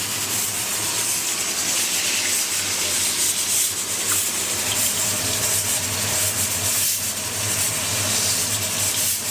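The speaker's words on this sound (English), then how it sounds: "So let those fry some more." Steady, dense sizzling and crackling of chicken frying in hot oil, continuous and fairly loud throughout with no voices.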